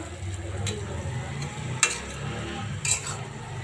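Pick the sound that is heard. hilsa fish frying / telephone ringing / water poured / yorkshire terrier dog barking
hilsa fish frying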